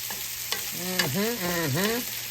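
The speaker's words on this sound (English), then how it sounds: "I want them good and caramelized. So I'm going to get the onions going really good" Red onions sizzling and caramelizing in a skillet, a steady broadband frying hiss with a couple of light utensil taps, while a voice hums a wavering tune over it.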